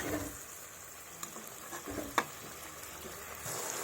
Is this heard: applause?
no